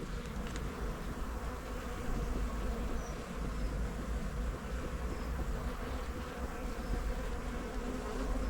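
Honey bees buzz steadily at an open hive during an inspection, a dense, continuous drone that stays close and even throughout with no talking.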